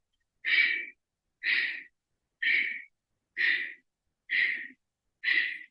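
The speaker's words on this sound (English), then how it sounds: "So it's almost like a slowed down breath of fire." Six forceful, evenly spaced breath-of-fire breaths from kundalini yoga, slowed to about one per second, close to the mic, each a sharp airy rush with brief silence between.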